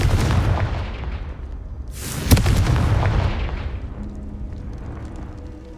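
A deep, booming blast from the Confringo spell in the Hogwarts Legacy video game, with a sharp crack in the middle and a long rumbling tail that fades out.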